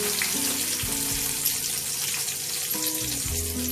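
Dried red chillies and onion fry in hot oil with a steady, close hiss and crackle, joined by a faint tonal hum, and no voices.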